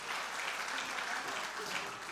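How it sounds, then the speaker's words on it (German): Church congregation applauding during a worship conference, a continuous even patter of many hands clapping, moderately loud and filling the room from start to finish. "Ein Applaus für die Koblenzer!"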